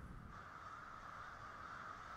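Several crows calling back and forth in a continuous, steady wash of cawing, moderately near with no other clear sounds.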